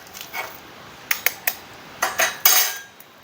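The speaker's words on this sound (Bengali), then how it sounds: "2টো ডিম ফাটিয়ে নেব।" Two eggs cracked against a bowl in a kitchen while making a fish cutlet, heard as a series of sharp close taps and clinks with brief pauses between them, no talking.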